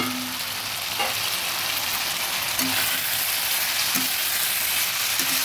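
Katla fish curry with drumstick pieces and potatoes sizzles steadily in a pan while it is stirred, making a constant hiss with faint clinks of the spoon and no speech.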